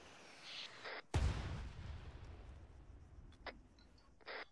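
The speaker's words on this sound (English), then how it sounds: "Every single explosion you guys keep hitting us with makes the entire squad land." Explosions in the military shooter game ArmA 3: a single sharp, loud blast followed by a rumbling low tail, with brief fainter bursts before and after.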